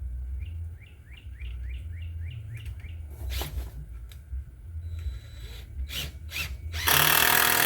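A power drill drives screws into pallet wood in short, loud bursts outdoors, with a whirring motor and repeated chirping birdsong in the background, ending in a strong burst of noise.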